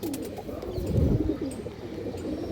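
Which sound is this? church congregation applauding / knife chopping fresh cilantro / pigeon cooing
pigeon cooing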